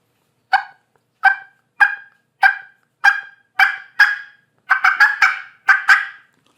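A hunter's call imitates a turkey hen cackling: a close, loud run of about a dozen sharp clucking notes, evenly spaced at first and then quickening into a tighter burst near the end.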